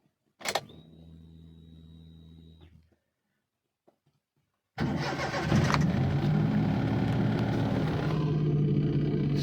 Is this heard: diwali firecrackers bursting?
no